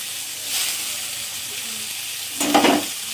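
Ginger and tomatoes fry in a pan for a spicy onion-tomato thecha, giving a soft sizzle with a brief louder burst of crackling and stirring near the end.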